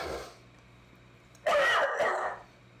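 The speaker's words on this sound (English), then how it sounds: "I've got a lingering cough." A single burst of coughing from a person working on a dark chocolate whiskey barrel, close and loud, lasting about a second, with a short second hack, then quiet.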